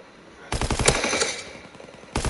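Bursts of rapid machine gun fire in the World War II shooter Call of Duty WW2, a loud rattling volley running about a second and a half before a fresh burst starts near the end.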